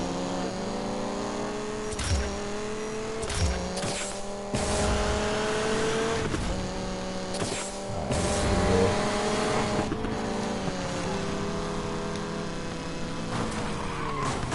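A Koenigsegg Regera races in Need for Speed Payback, its engine roaring loud and steady with rising and falling revs through gear shifts and brief tire squeals.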